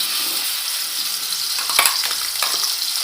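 Ground masala hitting hot oil in a pan for a chicken curry, a steady bright sizzle with a few louder crackling spurts and stirring scrapes.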